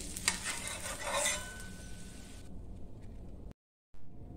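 Butter dosa roasting on a hot griddle, a bright sizzle with scraping and stirring strokes early on that fades to a quieter hiss, then a brief dropout.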